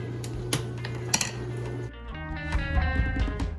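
Cheese sauce with milk is stirred in a pot, a spoon scraping and clinking against the metal at close range, with a few sharper knocks and a brief pause before stirring resumes.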